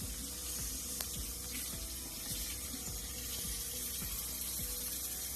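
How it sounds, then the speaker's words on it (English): Hot water runs steadily from a tap over a silicone baby-bottle bladder and its nipples, a continuous close splashing hiss with faint drips and knocks as the bladder is turned under the stream, no voices. "Rinse it with hot water on the outside."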